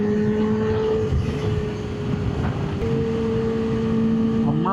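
Kawasaki Ninja H2 supercharged motorcycle engine running steadily at a constant drone, with heavy wind buffeting over the microphone throughout and a slight pitch shift midway.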